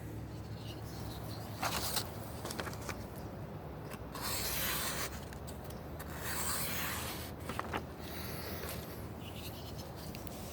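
A Spyderco Manix 2 knife with a Cruwear steel blade carves into wood, making repeated scraping and rubbing strokes at close range with short pauses between cuts.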